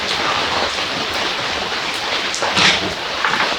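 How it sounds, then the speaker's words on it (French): Steady rain falls on an open-air garden theatre, a continuous broadband hiss with a few louder gusts of drops near the end, heard alone with no voices. "Il pleut chez nous en plus."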